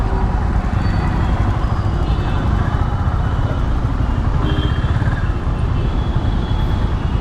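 Honda CB350 RS or GB350S motorcycle riding off, its engine a steady, loud, close rumble with wind and road noise running throughout, no voices.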